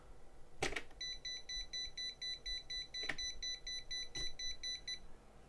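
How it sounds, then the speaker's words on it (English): An alarm on a cheap PC fan controller sounds, with rapid, evenly spaced electronic beeps pulsing steadily for several seconds. A few sharp clicks and taps come from handling nearby. "That certainly beeps."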